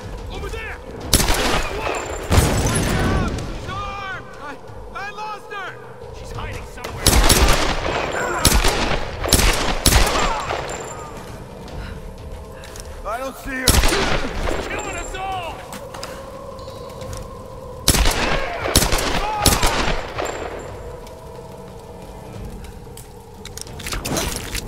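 Bursts of rapid gunfire in the video game Tomb Raider ring out repeatedly, loud and close, separated by quieter stretches with some background noise.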